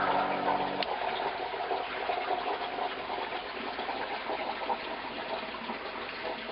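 Steady water flow in a home aquaponics fish tank setup holding jade perch, a continuous close gushing hiss that runs evenly throughout after a brief hum cuts off near the start.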